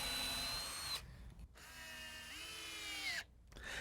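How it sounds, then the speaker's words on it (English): A power drill boring pilot holes into softwood boards while building a potting bench, whining steadily at high speed, dropping out briefly, then spinning up again with a rising pitch before a short stop, close and alone. "I first drill pilot holes to prevent the screws from splitting the ends of the boards as they're driven in."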